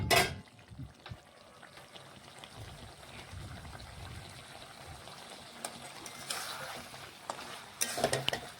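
Mutton being stirred in a kadai as its water cooks off, a soft bubbling sizzle with scraping stir strokes, quiet overall with a few sharper clatters near the start and end.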